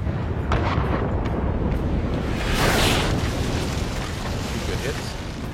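Cannon fire in a naval video game, a dense, continuous roar of booming broadside blasts that fills the whole stretch at steady loudness, with a person talking faintly underneath.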